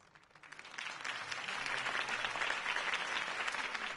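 Steady applause from a crowd in the Batman video game swells in after a quiet start and holds at an even level, a dense wash of clapping.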